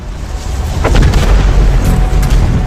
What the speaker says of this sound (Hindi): इस विस्फोट से जन्मी झटके की लहर 550 किलोमीटर प्रति सेकंड की रफ्तार से आगे बढ़ी